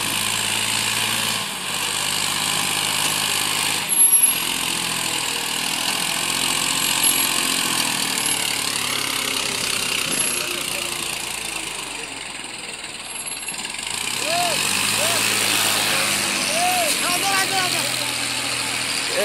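A tractor engine runs steadily, a low continuous idling drone with slight rises in revs, while people talk nearby over it.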